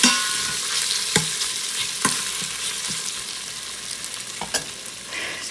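Beef and onions sear in a pressure cooker, a dense continuous sizzle close up with occasional sharp clicks and taps of a utensil against the pot.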